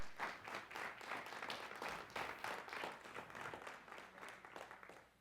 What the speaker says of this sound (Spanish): Ese aplauso fue de peso.